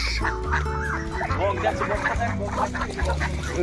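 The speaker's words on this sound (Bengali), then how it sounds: "কত হাঁস" Ducks on a dirt village path in rural Bengal, their quacking and clucking calls running steadily through the clip amid other farmyard noise, with someone speaking over them.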